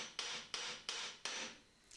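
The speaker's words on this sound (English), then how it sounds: "so I don't really mind hammering the casing." Metal casing of an old car differential being struck with a hammer, four sharp, evenly spaced blows, each ringing briefly before the next, fairly quiet and close.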